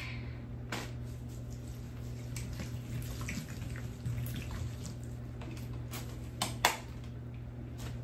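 Water mixed with plant additives is poured steadily onto moss to rehydrate it, giving a soft, continuous trickle close by with a few faint clicks and no talking.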